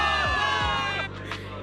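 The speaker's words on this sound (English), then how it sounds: "Give it up for yourselves, soldiers! Cheer for victory!" A crowd cheers for victory in the Zenless Zone Zero video game, a short burst of raised voices and whoops with a musical score underneath, fading quickly.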